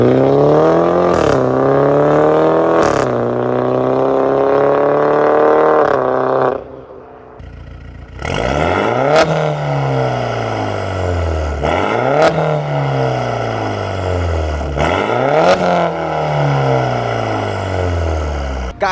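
BMW G30 with a full valvetronic exhaust and XHP Stage 3 tune revving hard, several sharp rising blips that fall back to a rumbling idle, loud and close, with a brief quiet gap midway.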